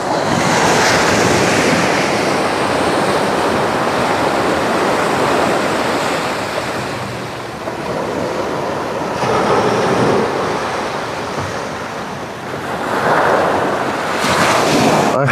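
Sea waves break and wash up on the beach at Cabo Roig, a loud continuous roar of surf with wind buffeting the microphone and surges swelling every few seconds.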